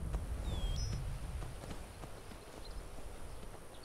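Horse hooves clip-clop steadily under a wash of outdoor ambience in a video game, the hoofbeats fairly soft and a bird chirping briefly in the background.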